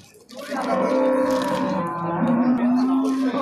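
A pregnant cow lets out a long, drawn-out moo close by at a livestock market, its low call wavering and holding for several seconds.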